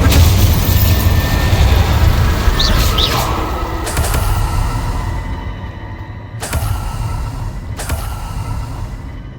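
Spell blasts from Confringo and Incendio in Hogwarts Legacy, heard as loud booming bursts over a rumbling low bed, with sharp impacts near the middle and two more crisp cracks toward the end.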